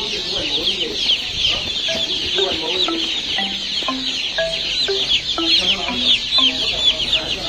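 Many chickens clucking and squawking at a poultry shop, with short overlapping calls in an uneven rhythm over a steady busy background hum, fairly close and continuous.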